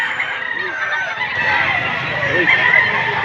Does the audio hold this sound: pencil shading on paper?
no